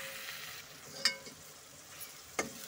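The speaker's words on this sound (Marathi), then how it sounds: "याच्यामध्ये टोमॅटो पटकन होण्यासाठी आपण मीठ टाकून घेऊ आणि परतून घेऊ" Tomatoes salted and sautéing in a pan for chana dal masala give off a quiet, steady sizzle, with a couple of sharp spatula clinks against the pan as they are stirred.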